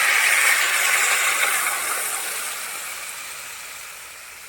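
Water poured into a hot cooking pan gives a loud, bright hiss that starts strong and slowly fades over several seconds, with no voices.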